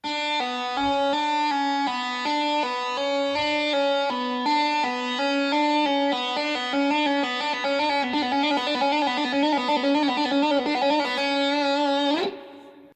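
A guitar plays a quick repeating legato figure of hammer-ons and pull-offs to the open string, ringing clearly and evenly for several seconds before stopping.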